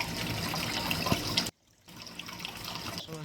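Water is poured into a sand, silt and clay mix, a close, steady splashing flow that stops abruptly and then resumes more softly as a trickle.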